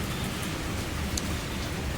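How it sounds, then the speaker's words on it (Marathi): Heavy rain pours down outside a home on a dark evening, a dense, steady hiss close by that carries on without a break and with no voices. "खूप पाऊस चालू आहे"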